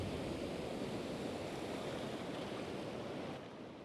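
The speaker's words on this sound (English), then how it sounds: "The ocean, powerful, unpredictable." Ocean waves wash steadily at a rock pool on the south coast of New South Wales, Australia, a continuous broad roar of surf, moderately loud and unbroken, fading slightly at the end.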